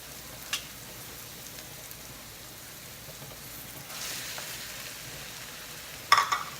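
Pork and red onions frying in a pan for pansit palabok, a soft steady sizzle with a few brief clatters of a utensil, faint and close.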